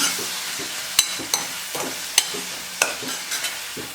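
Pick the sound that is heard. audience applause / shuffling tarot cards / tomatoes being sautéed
tomatoes being sautéed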